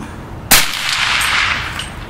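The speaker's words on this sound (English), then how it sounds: "The next round will be without, it'll be a supersonic. You should hear the crack of the bullet." A supersonic rifle round fires with a suppressor, giving one loud sharp crack followed by a bright, hissing decay that rings on for over a second with no speech.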